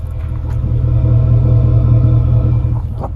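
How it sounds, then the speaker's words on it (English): A 2015 Ford F150 with the 5.0 V8 and a Black Widow Venom 250 exhaust idles with a deep, steady low rumble, loud and close with no voices. "That's what this thing sounds like with that beautiful Black Widow Venom 250."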